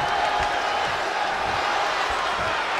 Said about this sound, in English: Jam-packed crowd in the Wells Fargo Center in Philadelphia.